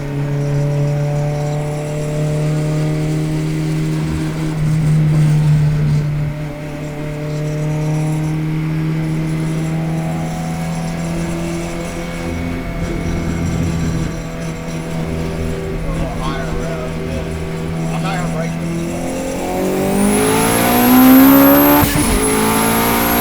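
A 700hp Honda S2000 engine revving and accelerating, loud sustained droning whine that climbs and falls through the gears, ending in a sharp rising high-pitched rev with a faint tire squeal.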